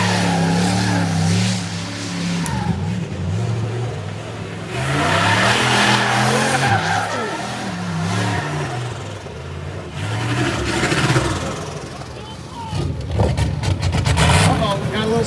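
A 1963 Pontiac Grand Prix roars through a burnout, its engine revving hard in repeated rising and falling surges with tire hiss, loud and close, while people talk and shout excitedly over it.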